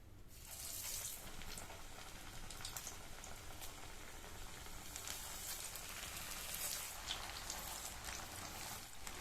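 Banana flower vadas fry in hot oil with a soft, continuous bubbling sizzle, quiet and steady with a few faint crackles and no voices.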